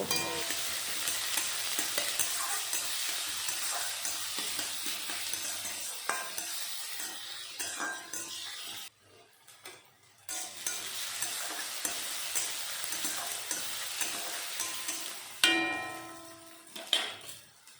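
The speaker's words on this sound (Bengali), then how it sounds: "তেল গরম হয়ে গেল, দিয়ে দিলাম পেঁয়াজ কুচি। পেঁয়াজটা একটু ভেজে নেব।" Chopped onions frying in hot white oil in a wok, a close, busy sizzle with utensil stirring and scraping, briefly dropping away near the middle before resuming with sharper spatula clatter.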